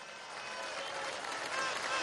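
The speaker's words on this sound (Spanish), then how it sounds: "vamos a darle un aplauso al general en jefe Vladimir Padrino López" A massive street crowd at a political march on a Caracas avenue applauds, a continuous roar of clapping and crowd noise that swells slightly toward the end.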